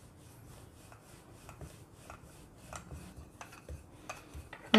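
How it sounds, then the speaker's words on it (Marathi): Naan dough being rolled out with a rolling pin on a floured surface in a home kitchen, giving soft repeated rubbing and rasping strokes at close range, steady and fairly quiet with occasional light knocks. "आता थोडा मैदा घेते मी आणि नान लाटून घेऊयात आपण।"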